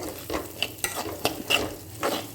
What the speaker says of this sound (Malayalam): നന്നായി വറുത്തെടുക്കണം